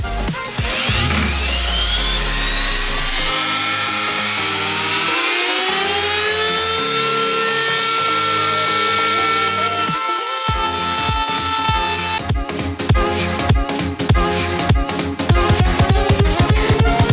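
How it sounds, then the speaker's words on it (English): A Dremel rotary tool with a sanding bit grinds labels off a Nerf gun, giving a loud, steady high-pitched whine that rises and falls in pitch as the bit bears down, then turns rougher and more stuttering near the end. "I'm going to be taking my Dremel tool with the sanding bit and sanding off all of these"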